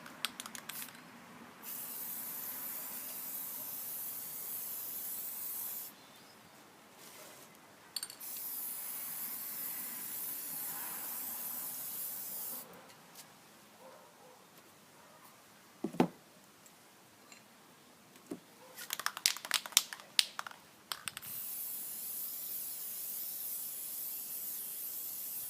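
A spray nozzle hissing in long, steady bursts of several seconds each, separated by quiet gaps, close and fairly loud, with scattered clicks and ticks near the end and no talk.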